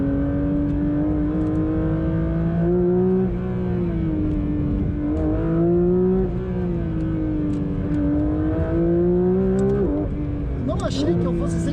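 A Porsche 911 GT3 RS of the 992 generation revs hard on a mountain road, its engine note rising and falling in steady sweeps with strong harmonics, loud and close throughout.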